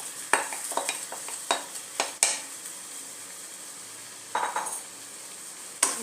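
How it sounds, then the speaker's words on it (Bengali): Marinated chicken tipped into well-cooked masala in a pan, then stirred over medium flame: scattered scraping and clinking stirs over a soft sizzle, with a louder cluster of strokes near the end, no voices. "এবার এর মধ্যে আমি চিকেনটা যে ম্যারিনেট করে রেখেছিলাম চিকেনটা দিয়ে দিলাম।"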